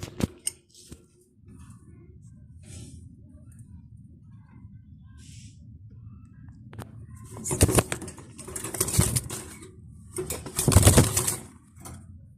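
Mundeyan pigeons at a pigeon farm, soft cooing under a quiet background, followed by several bursts of loud wing flapping and fluttering close by.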